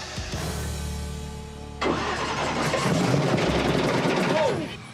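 A Camaro's motor cranks and runs roughly, grinding and rattling unevenly as if something is broken, loud and close.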